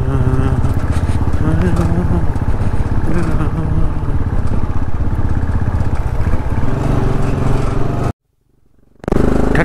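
A motorcycle engine runs steadily and loudly on a ride near Lo Manthang, a continuous close rumble under some talk that cuts out abruptly near the end.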